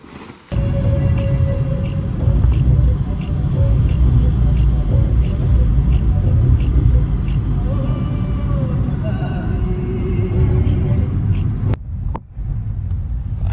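A car engine runs steadily and loud with a low rumble, vehicle moving on the road during a trip to the Koppal fair, with voices talking over it and a sudden dip near the end.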